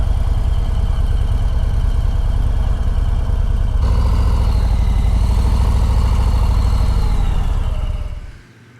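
A Harley-Davidson CVO Road Glide at an outdoor show rumbles at idle, loud and close. Its low, steady engine throb lifts slightly partway through, then cuts off abruptly near the end.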